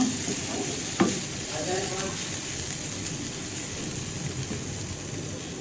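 Cauliflower and potatoes fry in a pan with a steady, broad sizzle and occasional stirring scrapes, including one sharp clink near the start; the frying stays at an even, moderate level throughout.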